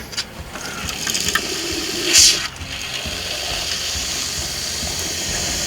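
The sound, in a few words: water running from RV kitchen sink faucet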